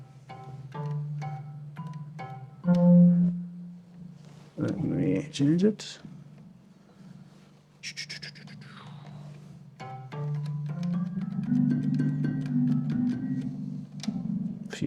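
A Korg electromagnetic instrument whose coil pulses drive two surfaces rubbing against each other gives a run of short pitched strikes, a noisy scraping burst, then sustained tones, with someone talking between and over the sounds.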